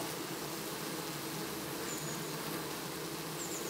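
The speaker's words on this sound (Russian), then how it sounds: "Мед закончился, все, пчелы его съели, и давай искать место," Honey bees buzz steadily as they feed on drops of honey up close, a continuous insect hum with no speech.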